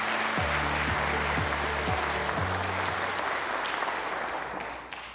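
Audience applause at a Korean government policy announcement event, a broad steady wash of clapping from a large crowd that fades slightly toward the end, with a low musical tone underneath.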